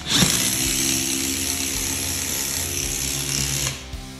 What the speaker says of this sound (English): Bracket, and I can put the second lag in,